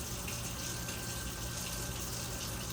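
Hot water poured steadily from a container into a dish in a home kitchen, a continuous close splashing gush with no talking over it.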